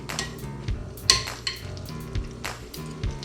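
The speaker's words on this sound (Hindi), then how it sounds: "थोड़ा सा ऑयल डाल रहे हैं। मीडियम टू हाई फ्लेम पर हम चिकन को सीयर कर लेंगे।" Chicken sears in butter and oil in a pan over a medium-high flame, giving a steady close sizzle with a few sharp clinks of a utensil against the pan.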